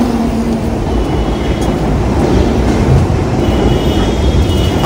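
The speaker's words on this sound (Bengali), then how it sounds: "একটা মেট্রো ওদের মাথার উপর দিয়ে হুশ করে ছুটে গেল।" A metro train on the East-West line rushes past overhead in Kolkata, a loud, steady low rumble and roar that holds through the whole stretch without pause.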